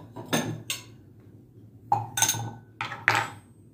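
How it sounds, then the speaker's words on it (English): Anchor Hocking glass bowl handled at close range, giving several short clinks and knocks in uneven bursts with quiet gaps between them. "This is a bowl by Anchor Hocking."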